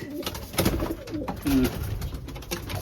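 A champion racing pigeon coos softly and close by, with low, throaty murmurs rolling over about three seconds against faint background noise.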